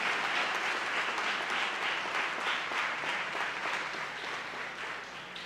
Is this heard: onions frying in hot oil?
no